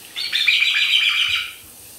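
A pet bird lets out a loud, shrill screeching call lasting about a second and a half in a home kitchen, close to the microphone, with no talking over it.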